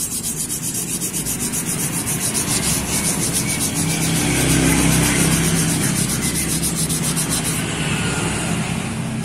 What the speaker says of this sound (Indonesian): Ini kita ngamplasnya pakai air ya.